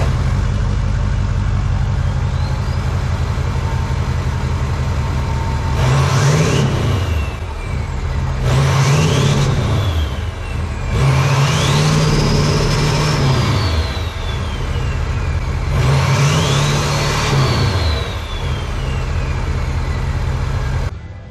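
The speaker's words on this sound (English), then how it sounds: "we're gonna see what it sounds like with no muffler at all" A 2016 Nissan Titan's 5.0 Cummins diesel, straight piped with no muffler after a DPF delete, idles with a deep rumble, then is revved four times in rising and falling swells, loud and close.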